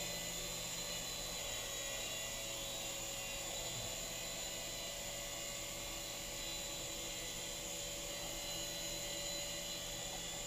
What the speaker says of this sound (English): It's kind of a cool little copter.